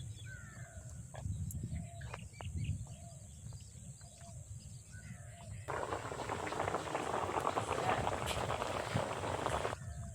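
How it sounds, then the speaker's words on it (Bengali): Hilsa fish and bottle gourd curry bubbles in a pot over high heat with a soft, steady burbling that grows louder and denser partway through, while birds chirp faintly in the background. "একটু জোরে জাল দিয়ে ঝোলটা ফুটিয়ে নেব।"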